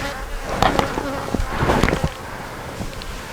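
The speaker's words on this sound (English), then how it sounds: "the bottom board's got bees on it and everything" Honey bees buzzing close by around a hive, a steady insect drone with individual buzzes swelling and fading as they pass near.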